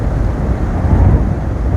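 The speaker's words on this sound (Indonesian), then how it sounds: "Anginnya kan seperti ini kan." Strong wind buffeting the microphone on a mountain slope near a cave and waterfall, a constant low rumbling roar with no talk.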